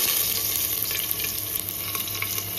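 Chopped onion frying in hot oil with ajwain seeds in a pan, giving a steady, close, crackling sizzle with small pops throughout and no talking.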